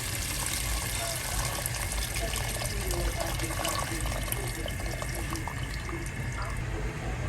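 Boiling water, 1.5 liters, is poured into a pot for prawn vermicelli soup, making a steady loud rushing splash that runs unbroken from start to finish with no pause.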